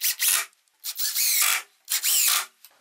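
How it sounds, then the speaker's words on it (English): Three bursts of a screw biting into a thin 1/4 inch plywood back panel on a wooden finishing cart, each a rough, rasping grind lasting about half a second, close and fairly loud, with short pauses between them. "I'm going to go ahead and screw that on now."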